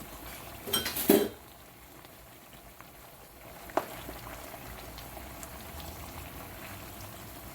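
A pot of jerk chicken boiling on the stove gives a faint, steady low bubbling, opened by a brief clatter of a lid or utensil and one sharp clink partway through, with no talking.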